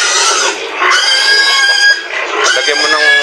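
Pigs oink and squeal on a farm, loud, close and nearly continuous, with layered squealing calls overlapping for the whole stretch.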